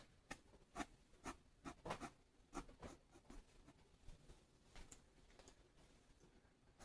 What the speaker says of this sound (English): Then I draw my chin.